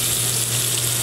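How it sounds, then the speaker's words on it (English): Veal scallopini sizzle and fry in olive oil in a pan, a steady close crackling hiss with no break and no talk. "So I've got the scallopinis cooking in the olive oil"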